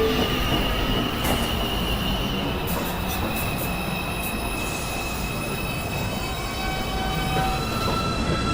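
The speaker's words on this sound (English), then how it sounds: "This is a Manhattan-bound 2 train." Manhattan-bound 2 subway train pulling into an elevated station, a steady loud rumble of wheels on rails with drawn-out metallic squeals and faint clicks as it slows, no voices.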